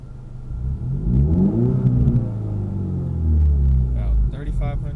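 Inside a parked Ford Mustang EcoBoost, the engine revs up to about 3,500 rpm and back in two swelling pulls of deep, close rumble, with someone talking over the tail end.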